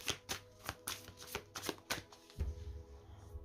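Tarot cards are cut and shuffled in a quick run of crisp riffling snaps that ends in a softer settling shuffle, close and clear with no talk.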